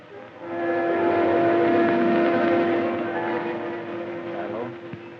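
A Canadian railroad train from the 1940s rumbles along steadily at close range, with a sustained whistle-like tone over the running noise that slowly fades toward the end.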